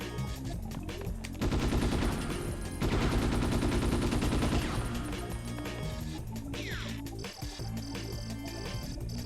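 Shooting in a demo-disc video game, rapid clattering bursts of fire and crashing hits layered over loud game music, heavy in the first half and then thinning out.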